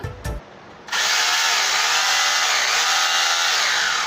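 A heavy-duty 26 mm rotor hammer drill starts up after a couple of clicks and runs at a steady, loud, high-pitched motor whine, close to the microphone and uninterrupted to the end.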